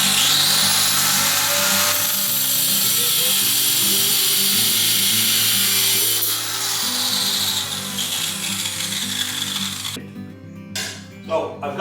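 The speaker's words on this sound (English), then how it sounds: "I'm using a rotozip with a metal cutoff blade" A rotozip with a metal cutoff blade cutting a brass rod gives a steady, loud high-pitched grinding whine for about ten seconds, then stops, followed by a few faint clicks.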